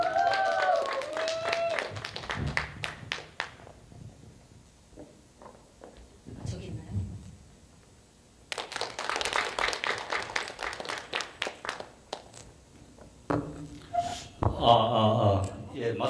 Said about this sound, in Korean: 박수로 맞이해 주시기 바라겠습니다